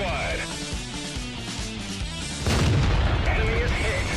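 A tank cannon fires in the World of Tanks game: a single heavy boom lands midway through, over continuous engine rumble and game noise, with someone talking.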